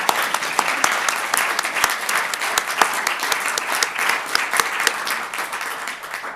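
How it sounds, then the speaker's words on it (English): A round of applause for the speakers at the close of a rural affairs lecture, dense audience clapping with distinct individual claps standing out, steady and fairly loud throughout. "We should give them a round of applause now."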